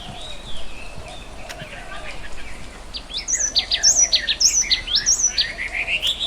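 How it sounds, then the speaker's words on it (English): A yellow tit sings in a forest, bright high chirping phrases repeating in quick bursts, louder and denser in the second half, over soft background bird calls. "the Yellow-Tit sings its sweet melody, filling the air with pure harmony."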